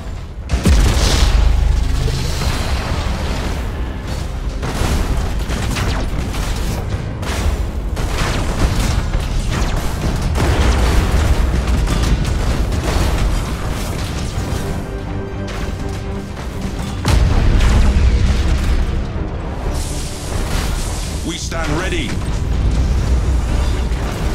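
Thunderhawk bombardment in the space battle game Battlefleet Gothic 2, with deep booming explosions rolling over a dense, constant battle roar and swelling into heavier blasts partway through.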